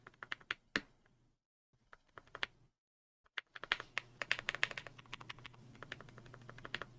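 Close, crisp keystrokes on a pre-built DP 104 mechanical keyboard come in quick irregular bursts, with a short silent pause before a denser run of clacks.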